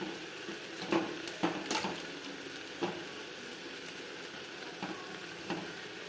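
Salted onion and tomato with green chili frying in a pan, a soft continuous sizzle with a few stirring scrapes and clinks, fairly quiet and close.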